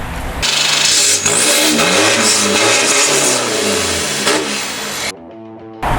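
A 2018 Isuzu D-Max 1.9 pickup with an aftermarket racing exhaust revs hard, its throaty engine note rising and falling in loud close bursts before dropping to a rumbling idle at the end.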